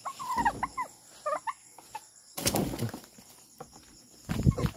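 Pet turkeys calling nearby, a few warbling, rising gobble-like bursts and clucks, then scattered rustling and a louder flurry of movement near the end.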